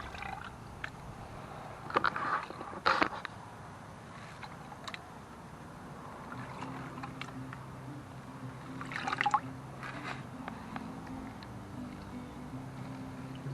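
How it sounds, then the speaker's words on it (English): Rocks being rinsed with water in a pan while backyard prospecting, splashing and trickling at close range with a few louder sloshing bursts and a steady low background hum. "go ahead and rinse the first set of rocks off"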